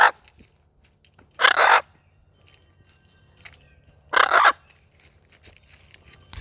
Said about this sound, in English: We want to put perches around for Murphy bird